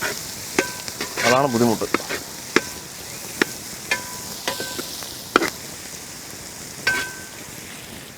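Small onions frying in coconut oil, a close, steady crackling sizzle with sharp pops and spatters throughout, a spoon stirring now and then, and a brief spoken remark over it.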